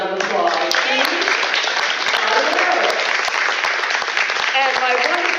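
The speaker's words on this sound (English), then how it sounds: "Let's give our moderators a round of applause." A crowd at a county commissioner candidate forum gives the moderators a round of applause, continuous and even clapping held at a steady level throughout, with some voices audible beneath it.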